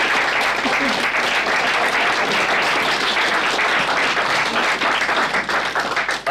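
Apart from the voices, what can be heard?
audience applause for a volunteer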